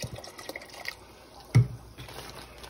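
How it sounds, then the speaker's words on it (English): Vinegar poured into a pot of hot water to make a brine for a smoked boar leg, a soft liquid trickle and splash with one louder plop midway, close up and fairly quiet. "Add a little vinegar."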